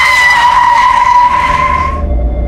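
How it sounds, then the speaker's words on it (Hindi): A truck brakes hard on a desert road at night, its tyres giving a loud, high screech that holds for about two seconds before cutting off as it halts. "मैंने जोर से ब्रेक मारे और मेरा ट्रक"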